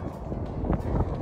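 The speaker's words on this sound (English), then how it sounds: "this chilly wind is so destructible." Chilly wind buffeting a microphone on an afternoon walk outdoors, a steady low rumbling roar that fills the whole moment, close and fairly loud, with no clear talking.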